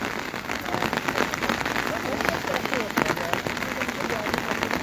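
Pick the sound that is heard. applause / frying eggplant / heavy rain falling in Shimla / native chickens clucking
heavy rain falling in Shimla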